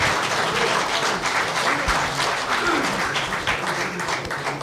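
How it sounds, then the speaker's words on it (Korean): Audience applause at a ceremony marking the 25th anniversary of a Nobel Peace Prize, steady clapping across the whole stretch with no voice over it. "우리 더욱더 건강하시라고 박수 한번 다시 한번 부탁드리겠습니다"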